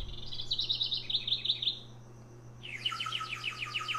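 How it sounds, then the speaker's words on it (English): A recorded bird call plays from a toy: a run of bright, rapid chirps, a brief pause, then a second burst of dense trilling tweets, clear and close with no talking. "first listen to the bird"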